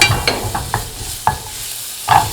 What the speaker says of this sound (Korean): 고춧가루 두 큰술 볶아주세요